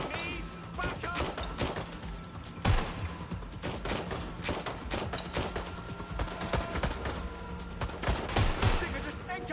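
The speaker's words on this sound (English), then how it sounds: "incoming fire" Dense gunfire in the video game Watch Dogs Legion, bursts of shots and automatic fire cracking throughout, with voices shouting over the exchange.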